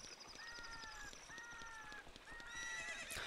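A horse in the video game Zelda Ocarina of Time gives repeated neighs and whinnies over a steady clip-clop of hooves, with no talking, ending in a brighter burst.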